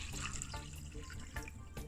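Water pours steadily from a tap into a container for homemade Jamaican ginger beer, a continuous close splashing and trickling that runs the whole moment with no talk over it.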